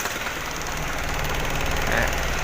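A diesel engine runs steadily after its pressure pump timing has been set, a continuous dense rumble with a knocking undertone that holds at an even, close level throughout.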